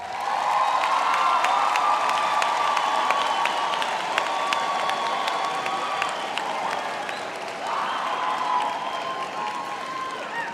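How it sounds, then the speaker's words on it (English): A graduation audience applauds for a long stretch, dense sustained clapping with some cheering, loud and close, over a steady musical tone in the background. "So please turn to them and you applaud them."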